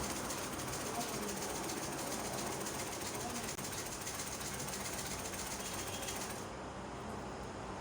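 A domestic sewing machine runs steadily to stitch a seam on a bomber jacket, its motor a continuous rapid whirring buzz held at the same level, up close and with no pauses.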